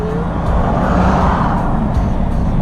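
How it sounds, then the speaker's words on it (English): Rush-hour traffic in Jacksonville, with cars zooming past a stopped vehicle as a dense, steady roar of tires and engines, a few quick whooshes standing out, and no talk. "watch these cars zoom by as we're at a standstill"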